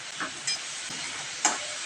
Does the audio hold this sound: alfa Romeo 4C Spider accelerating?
no